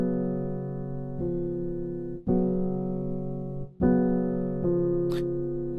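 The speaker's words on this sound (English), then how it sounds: "You have the 7 sus 4, which sounds like this." Several piano 7sus4 chords struck one after another, each held and slowly fading before the next, close and clean, no talking.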